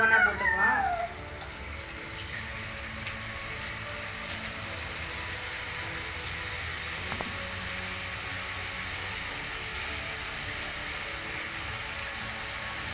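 Potato pieces for potato 65 are dropped into hot oil in a kadai: a loud burst of sizzling at first, then a steady, dense frying hiss that carries on evenly throughout.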